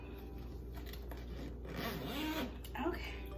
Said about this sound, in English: And I can zip it up.